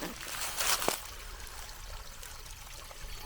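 Water trickling in a creek-bed sinkhole, a short pouring splash at the start that settles into a faint, steady trickle.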